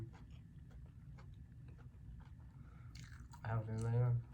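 Someone chews crunchy curry shrimp at a restaurant, soft bites and mastication ticking close to the mic over low background hum, followed near the end by a brief burst of speech.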